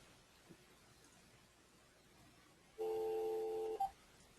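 Telephone keypad dialing while calling back into a webinar by phone for an audio pin: after quiet room tone, one sustained dual-tone keypad beep holds for about a second, followed by a brief short blip, clear and alone.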